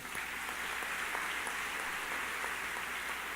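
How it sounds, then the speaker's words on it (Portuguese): A church congregation applauds during a Catholic homily, a dense, steady patter of many hands clapping together that fills the space evenly and continuously for a few seconds with no voices over it. "Aplauda isso."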